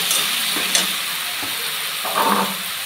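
Egg and tomato curry stirred in a pan, village style, with a steady frying sizzle and a few soft scraping strokes of the spoon, close and continuous.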